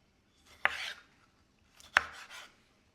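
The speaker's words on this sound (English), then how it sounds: "I've washed the tomatoes up really well, and I'm going to chop those up" Two distinct knife strokes chop through tomatoes on a board, each a sharp close thud followed by a short scraping rub, spaced about a second apart in a quiet kitchen.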